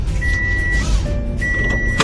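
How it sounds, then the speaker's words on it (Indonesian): A car's seat belt warning chime sounds while the belt is unfastened: steady electronic tones that start, stop and return across two seconds over a constant low cabin hum. "kalau kita nggak pakai seat belt, nanti dia ada peringatannya, bunyi seperti ini."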